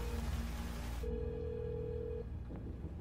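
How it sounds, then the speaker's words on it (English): A telephone rings in a dramatic TV movie, a steady electronic tone sounding for about a second over dense background noise, which then cuts to a quieter room with a faint click and no talk. "Answer the phone."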